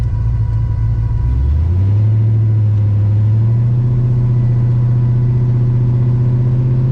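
A car with a Powerglide automatic transmission idles after being shifted into first gear; the loud, close engine drone dips and settles into a lower, steady hum as the gear engages, with no talking.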